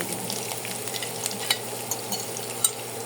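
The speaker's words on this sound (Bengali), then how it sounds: "এখন দিয়ে দিব এখানে আলুটা যে ম্যাশ করেছিলাম সেই আলুটা" Mashed potato dropped into a hot pan of frying filling for stuffed buns, a steady close sizzle with stirring scrapes and a few sharp pops, no voices.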